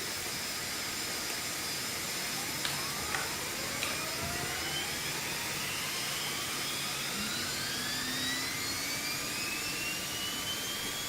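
A Phenom 300 jet engine spooling up in the X-Plane 12 flight simulator, a steady turbine roar with rising whine tones climbing throughout, a few brief clicks early on, no talk.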